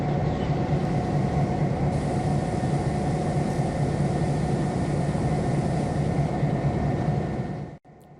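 Freight train locomotives with just over 5,000 horsepower combined rumble steadily in the Trainz game, a loud continuous engine drone with a constant hum that cuts off abruptly near the end.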